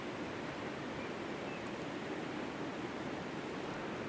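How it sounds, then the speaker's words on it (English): Rain falls steadily on a tent campsite, a continuous, even, faint hiss with no breaks and no voices. "I can't believe it's raining"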